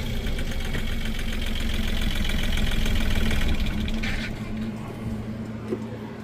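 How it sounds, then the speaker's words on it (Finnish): A car engine idles with a rough, knocking rumble, then is switched off around two-thirds through, leaving a quieter fading hum and faint ticking. "Eli sammutetaan moottori."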